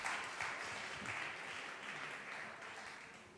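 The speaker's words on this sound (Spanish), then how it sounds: "Un aplauso para ella." Quiet, steady applause from an audience at a public talk, a soft continuous wash of many hands clapping at a distance that fades slightly toward the end.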